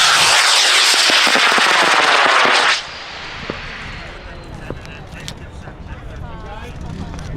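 A high power rocket motor fires at the LDRS 42 launch in Potter, New York, a very loud crackling roar lasting almost three seconds and then cutting off sharply, leaving distant rumbling and crowd voices.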